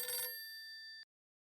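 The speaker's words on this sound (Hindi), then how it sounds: "फिर से फोन लगा।" A telephone rings once, a bright electronic trill that is clear and close, then holds briefly as a fainter sustained tone before cutting off abruptly into silence.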